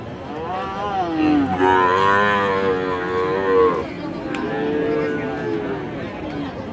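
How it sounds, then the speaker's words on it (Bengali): At the Ambari cattle market, Friesian and cross-bred bull calves about a year old let out long, loud, drawn-out moos one after another, with faint crowd chatter behind them. "এগুলো বাচ্চা গরু"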